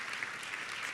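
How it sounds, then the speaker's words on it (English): A crowd at a boot camp event breaks into a big round of applause, with dense, steady clapping filling the whole second at close range. "So give them a big round of applause"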